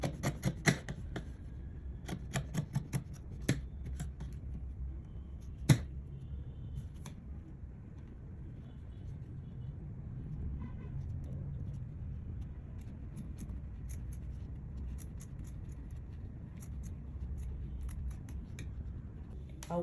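Scissors snipping along the neckline of a fabric bubu gown, a cluster of short crisp cuts at the start, then scattered single snips fading into a quiet room hum.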